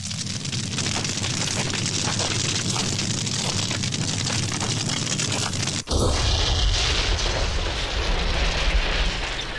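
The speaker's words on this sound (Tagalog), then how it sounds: "Pero sumabog ang bangka." A dense, roaring blast fills the clip, then a sharp cut to a slightly brighter crackling rumble, like a large boat explosion with debris and fire continuing.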